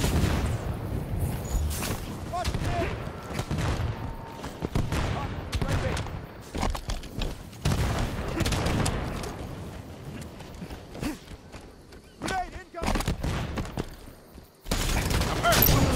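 Sniper rifle fire in the Halo 5 Guardians beta multiplayer match: loud gunshots and booming impacts repeat in bursts among dense battle noise, with nearby voices talking over parts of it.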